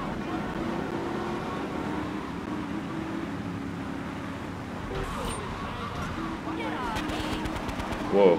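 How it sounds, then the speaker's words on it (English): Gunfire crackles in GTA 3 as rapid bursts of shots rattle in the middle and toward the end over a constant rumble of traffic and engines, moderately distant. "Still people shooting"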